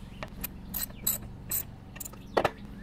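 A bolt holding a small engine carburetor's float bowl is snugged down with a ratchet, giving a few close, crisp metallic clicks spaced irregularly, with one sharper rattle near the end.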